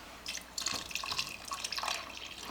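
Beef broth pours from a can into a cooking pot, a steady splashing, trickling liquid stream lasting a couple of seconds, close and moderately loud with no voices.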